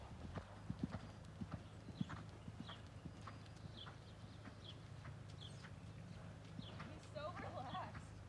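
A ridden horse's hooves clip-clop in a steady walking rhythm at moderate distance, with a person talking quietly over the hoofbeats and a few birds chirping.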